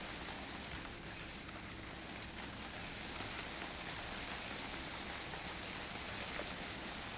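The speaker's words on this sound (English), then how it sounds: "It's raining." Steady, soft rain hisses evenly across the whole stretch in the UnReal World video game, a dense, constant wash of falling drops with no other sounds and no voices.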